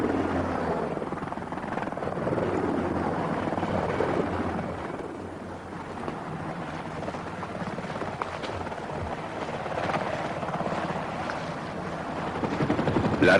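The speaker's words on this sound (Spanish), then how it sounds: "Y por arriba flotan los helicópteros de observación, alerta para otear la reacción enemiga." Military observation helicopters fly overhead, a continuous loud rotor thrum and engine roar that stays steady for over ten seconds with no speech.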